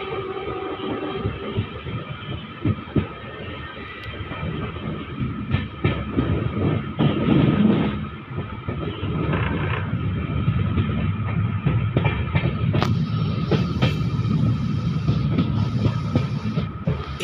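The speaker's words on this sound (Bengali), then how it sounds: "আমাদের ট্রেন এখান থেকে টার্ন নিয়ে নেবে ডান দিকে" Heard from aboard the Howrah–Balurghat Express (13063) with new LHB coaches, the train rolls along the rails in a continuous loud rumble with rhythmic wheel clatter and occasional metallic knocks as it turns off at a junction.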